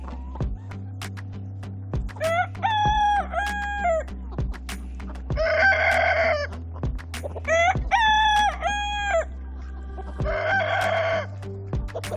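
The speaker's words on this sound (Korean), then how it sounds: "수탉들은 싸움을 하고 나면 항상 자신이 이겼다고 소리 지르는 경향이 있다" Roosters crow loudly several times in succession after a fight, each call a long ringing cry, over a steady low mechanical hum.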